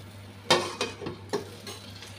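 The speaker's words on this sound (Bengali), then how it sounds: "এখন ঝোলটা দিয়ে দিচ্ছি। নুনটা দিয়ে দিচ্ছি।" Broth and salt going into a simmering prawn and potato curry in a pan: a sizzle and a few scraping stirs of a utensil against the pot, with soft clinks in a quiet kitchen.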